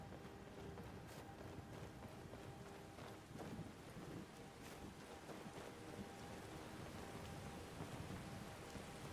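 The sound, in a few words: thunderstorm and rain in the video game Skyrim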